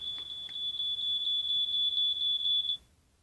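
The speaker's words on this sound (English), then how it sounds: "Now it's still beeping. Come on, stop it, smoke detector." A household smoke detector gives one shrill, continuous high beep, loud and close, that holds for nearly three seconds and then cuts off into quiet.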